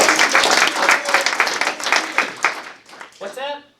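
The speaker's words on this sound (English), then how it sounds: "let's give him a round of applause." An audience at an astronomical society's annual awards meeting gives a brief round of applause, steady clapping that thins out over a few seconds before a voice speaks as it fades.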